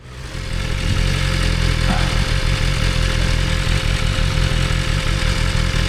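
A motorcycle engine idles steadily with a low, continuous rumble after a brief fade-in, holding even throughout with no talking.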